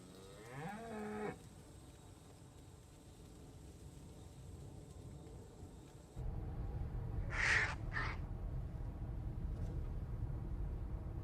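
Cattle near the Masaya volcano in Nicaragua give two short, distant moos against steady outdoor background noise, preceded by a fainter lowing call earlier on.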